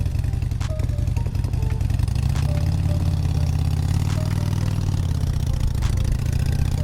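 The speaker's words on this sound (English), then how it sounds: "look for a sound effect for a motorcycle" A motorcycle engine chugs close and loud, its steady idle rising into a throttle-up swell midway before settling back, with a faint rattly clatter throughout.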